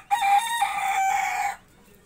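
A single clear crow from a labuyo junglefowl rooster, loud and fairly near, lasting about a second and a half before fading to quiet, with no one talking.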